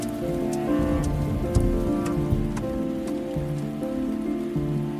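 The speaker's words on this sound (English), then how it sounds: "Tonight it's raining" Steady rain pours at night in a La Brea tar pit setting, a dense, even hiss of drops striking surfaces, with a few sharper splashes standing out and no voices.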